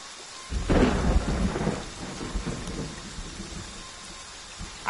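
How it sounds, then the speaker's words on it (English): A loud, deep rumble of thunder rolls in about half a second into a rainstorm, then fades slowly over the next few seconds while steady rain continues underneath. "The thunder kind of like ruins it"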